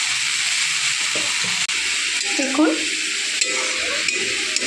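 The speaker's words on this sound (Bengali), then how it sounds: "শাকটা দিয়ে তেলের মধ্যে একটু নাড়তেই শাকটা কত কমে এলো, আর জলও বেরোলো শাক থেকে বেশ খানিকটা।" Leafy winter greens stirred in hot oil in a wok-style kadai, a steady loud sizzle and hiss with scraping stirs, a brief spoken word near the start.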